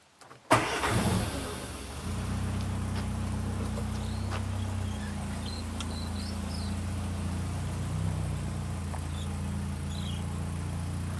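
A 1960 Austin Healey Bug Eye Sprite engine cranks and fires with a sharp burst, then settles into a steady, close, throbbing idle that runs on evenly to the end.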